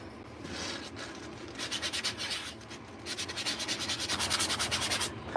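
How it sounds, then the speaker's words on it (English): Sanding blocks rub back and forth over wood at a spoon carving workshop, making close, rhythmic scratchy strokes that come in bursts, with quieter gaps between the runs. "These are those sanding blocks."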